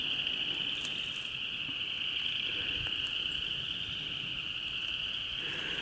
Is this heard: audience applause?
no